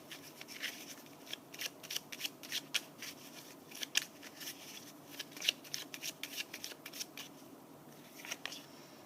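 Tarot cards are shuffled close up, with a steady run of soft riffling and flicking bursts and papery rubs, quiet and continuous with no talking.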